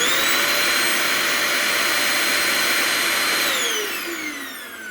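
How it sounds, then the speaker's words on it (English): A Shark Navigator upright vacuum cleaner roars steadily with a high whine, then its pitch slides down near the end as the motor begins to wind down. "So let's try out this Shark Navigator in 3, 2, 1, test sound"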